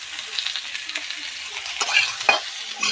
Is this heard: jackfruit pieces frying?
yes